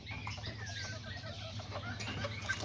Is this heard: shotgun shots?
no